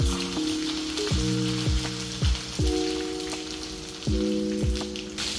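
Hot oil sizzles steadily while mustard seeds pop and crackle in sharp bursts, close by, with a recurring low tonal hum underneath.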